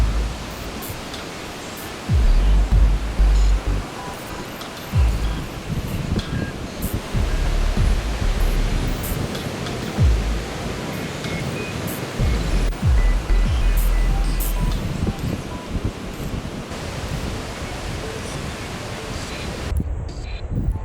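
Waves break on a beach in Brunei, each surge rising and falling in a broad wash of sound with wind noise on the microphone and no talking.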